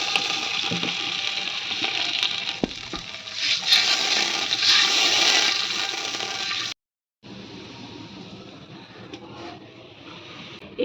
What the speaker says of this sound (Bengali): এই যে ব্রেস্তাটা ভাজা হয়ে গেছে এর মধ্যে আমি এখন জল দিয়ে দেবো